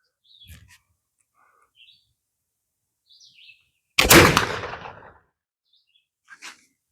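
A single loud, close shot from a Lyman flintlock trade rifle fired outdoors. The sharp crack decays over about a second, with faint bird chirps before and after.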